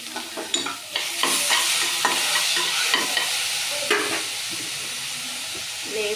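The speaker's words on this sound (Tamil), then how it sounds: "தக்காளி மல்லிச்செடி எல்லாத்தையும் போட்டு வதக்கணும்." Chopped tomatoes and coriander sauté in a hot pan, a dense close sizzle with a repeated scraping and knocking of a spatula stirring through them, steady and fairly loud with no voices.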